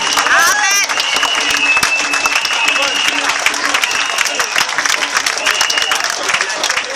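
A church crowd applauds and cheers in praise of God, dense sustained clapping with shouts and voices mixed in, loud and close throughout.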